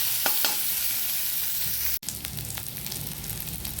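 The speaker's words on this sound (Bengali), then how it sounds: "এগুলো একটু ভালো করে নাড়াচাড়া করে ভেজে নেব" Chopped onion and garlic frying in a pan while being stirred, a steady close sizzle with scraping strokes of a spatula and a brief break midway.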